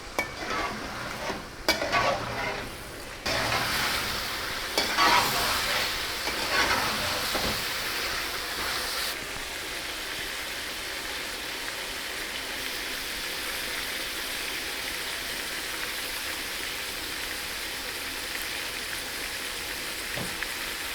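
Chicken karahi with green chillies fries in hot oil, giving a dense, steady sizzle stirred with occasional scraping clatter early on, then settling into a continuous even frying hiss.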